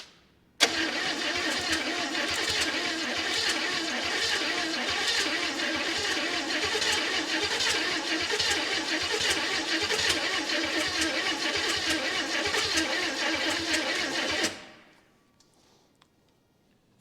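A 1969 Chevrolet El Camino engine under restoration cranks and catches, then runs steadily and loud up close at a rough idle for about fourteen seconds before shutting off abruptly.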